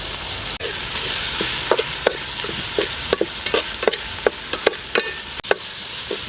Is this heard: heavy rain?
no